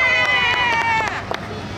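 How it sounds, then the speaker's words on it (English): A crowd at a Marilyn Monroe street show at Universal Orlando shouts a loud cheer on cue, a dense burst of many voices near the start that fades after about a second. "I want a great big cheer from everyone"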